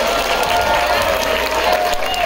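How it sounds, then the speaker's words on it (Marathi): Audience at a Ganesh festival program abroad breaking into loud, sustained applause, dense continuous clapping with some cheering, filling the whole moment without a break. "बघू तुम्ही किती जोरदार टाळ्या वाजवताय"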